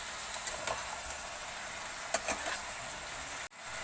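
Spices are sautéed in a pan while being mixed, giving a faint, steady sizzle with occasional soft stirring clicks and scrapes, quiet and close, with no voices.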